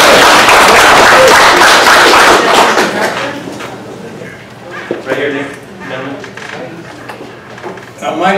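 An audience at a seaside housing forum claps loudly for a few seconds, then the applause dies away into scattered sounds and someone speaking.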